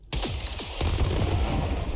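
Weapon fire in the video game Returnal, a rapid burst of several loud, booming energy shots that roll into a sustained rumbling barrage, with no voices.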